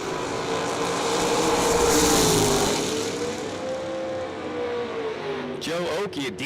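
A diesel truck engine at a truck pulling event drones loud and steady, its pitch swelling and easing, while a voice talks over it.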